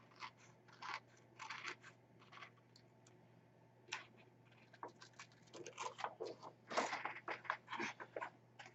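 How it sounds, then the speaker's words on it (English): Scissors snip around a printed paper piece for a 5.5 x 5.5 inch mini album, with quiet close crisp cuts in irregular clusters and short bursts that grow busier toward the end. "So I'm going to fussy cut it out, leaving that white border."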